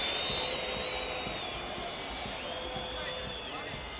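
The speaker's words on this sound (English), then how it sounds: "the crowd is saying, give him a break, ref" A rugby stadium crowd at an Argentina versus Namibia Rugby World Cup match, a broad wash of distant shouting and murmuring that swells and settles, with a faint whistle tone riding above.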